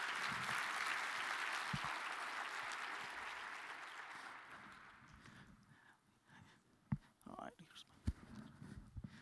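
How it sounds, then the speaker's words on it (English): A keynote audience in a large hall gives a long round of applause that gradually fades, followed by scattered footsteps and a few faint voices as the clapping dies away. "please give Josh a big round of applause."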